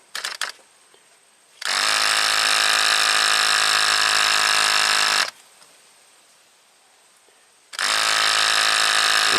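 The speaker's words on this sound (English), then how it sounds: "When I ground this, the vent should close and the pump should operate, and we should see that actuator do its thing." An Audi cruise control module's pump runs in two loud, steady bursts of electric whine, each lasting several seconds with a quiet gap between them, close up and with no talking.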